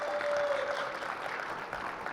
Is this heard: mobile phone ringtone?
no